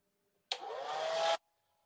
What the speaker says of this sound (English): So I have my hair dryer here, and I'm not going to do on high